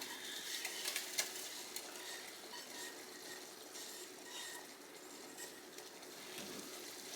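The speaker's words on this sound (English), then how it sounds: "Okay, so I'm just going to add that butter mixture now." A butter mixture is poured into a pot of clam chowder, a soft, steady sizzling and liquid rush with faint stirring clinks.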